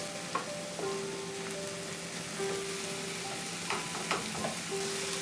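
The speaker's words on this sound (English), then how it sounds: "And we'll cook this on a medium flame for 2 minutes." Tomatoes cooking over a medium flame while being mashed: a soft, continuous frying sizzle with occasional light spoon taps and scrapes, fairly quiet throughout.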